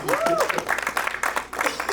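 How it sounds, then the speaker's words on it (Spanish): A church congregation claps for the King of Heaven at a preacher's call, brief bursts of hand clapping with voices and a preacher's speech over them. "Dale un aplauso al Rey del Cielo."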